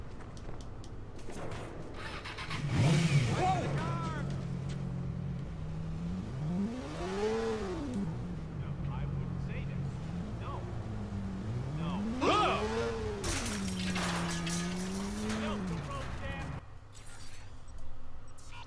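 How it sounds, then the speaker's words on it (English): A motorcycle rides in the video game Watch Dogs: a steady engine drone with several swooping revs as it accelerates and shifts, fairly quiet, with an occasional voice over it. "Let's go back to my motorcycle."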